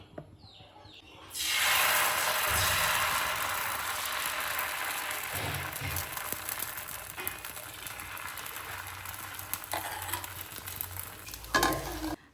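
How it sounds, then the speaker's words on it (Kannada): Coconut dosa batter hitting a hot pan: a loud sizzle bursts in suddenly, then settles into a steady, gradually softening frying hiss with faint scraping, close up and without talking. "ಇವತ್ತು ತಿಂಡಿಗೆ ಕಾಯಿ ದೋಸೆ ಮಾಡ್ತಾ ಇದ್ದೀವಿ"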